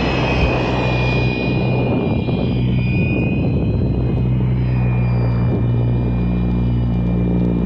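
A Fly Wing FW450 V3 RC helicopter flies in a test flight, its rotor and motor giving a steady loud whine and whirring drone with a high tone that shifts slightly as it passes and returns.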